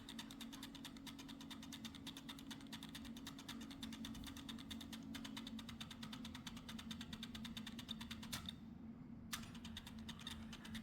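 Several RC servos on a P. Moroni servo board drive a helicopter-style swash plate up and down, giving a faint, steady electric whine and hum with a brief pause near the end, with no voices.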